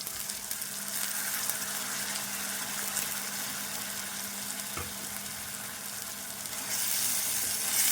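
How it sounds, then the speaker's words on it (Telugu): Soaked chickpeas frying with onion in a pan for a spiced meal-maker curry, a steady soft sizzle and faint stirring throughout, close and continuous, no speech. "శనగలు కూడా కొద్దిసేపు వేగాలి"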